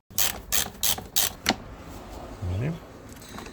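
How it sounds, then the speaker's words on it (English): A ratchet wrench turns out a bracket screw in the engine bay of a Mini Cooper S R53, giving five quick, loud, close clicking bursts in a row, then a brief scrape. There is no talk. "this bracket is anchored with another screw right here. Let's remove that too."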